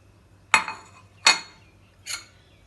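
A spoon knocks against a bowl of boiled instant noodles as they are mixed, giving three sharp, close clinks spaced about a second apart in an otherwise quiet room.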